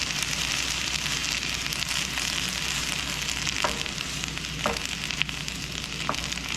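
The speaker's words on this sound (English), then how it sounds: "We're going to let this reduce down until it becomes thicker and makes a good sauce out of it." Tomato paste sauce cooking down on high heat gives a continuous close sizzle and bubbling, with a few sharp pops and spatters breaking through near the end; nobody speaks.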